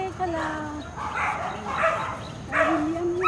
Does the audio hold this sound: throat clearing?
no